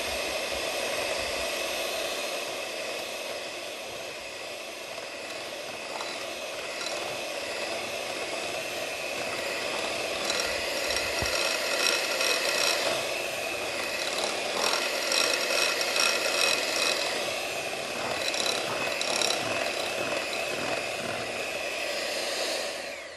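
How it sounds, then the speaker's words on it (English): An electric stand mixer beats a batter on medium speed, giving a steady, loud motor whine with a rattling, scraping texture that continues unbroken throughout, without talking. "we're going to beat this on medium speed until blended. So we're going to be a little noisy here for a short while."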